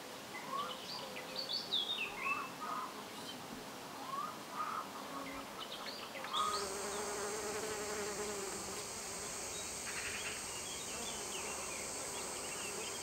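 Bees and bumblebees buzz nearby around sunflowers with a shifting drone, and birds chirp faintly in the background; partway through, a steadier high hum joins in.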